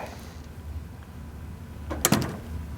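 A door shuts with a sharp knock and quick rattle about two seconds in, standing out against low room hum in a postgame hockey talk setting.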